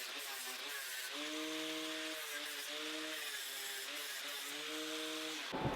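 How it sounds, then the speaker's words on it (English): An angle grinder with a flap disc sanding down welds on extended sliding-door hinges for a Mitsubishi L300 Delica, giving a steady high whine with wavering pitch that cuts off abruptly at the end. "I'll put the flappy disc on the grinder, and I'm just going to sand all the welds down"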